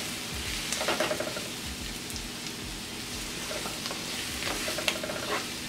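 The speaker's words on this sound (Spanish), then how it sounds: "los voy a sofreír un poco con el ajito y la cebolla" Mushrooms sautéing with garlic and onion in a pan, a steady crackling sizzle with occasional scraping stirs and light knocks, close by and continuous without speech.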